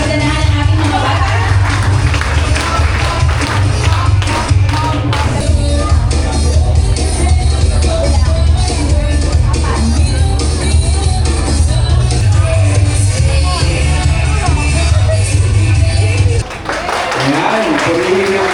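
A church anniversary audience applauds the children in a loud, sustained wash of clapping and crowd noise with some shouts, continuing steadily before dropping off near the end.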